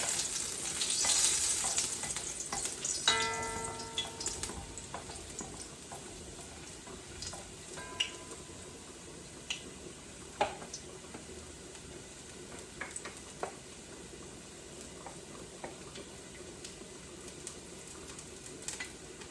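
Garlic cloves frying in hot oil in a pan for Jamaican oxtail: a loud hiss bursts up at first, then settles into a soft, steady sizzle with occasional faint clicks of stirring.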